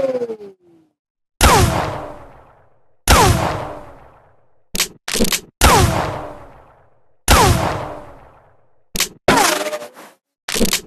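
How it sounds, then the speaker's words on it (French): Gunshot effects for Stripe in the video game MultiVersus: a series of loud, sharp cracks with decaying ringing tails, some single and some in quick doubled bursts, spaced irregularly with silence between. "on a aussi les bruits de pistolet de Strips"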